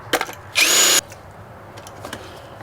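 A power drill drilling out bolts on a 1996 Ford Taurus wagon gives a short, loud whirring burst lasting about half a second, preceded by a few clicks and light knocks.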